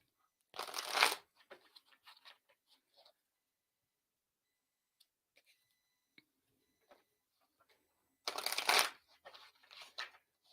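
Tarot cards are shuffled in two brisk riffling bursts, near and fairly loud, with quiet scattered card taps and handling between them and no speech.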